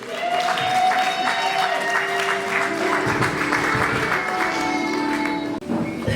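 Church congregation at a wedding blessing in Sarcelles applauding steadily, loud dense clapping with crowd noise under sustained music tones and a voice, continuous for about six seconds.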